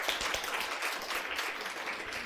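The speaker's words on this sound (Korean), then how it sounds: "우리 하나님께 감사의 박수 하겠습니다" A church congregation claps in thanks to God near the end of a Sunday service; brief, soft, steady applause with no talk over it.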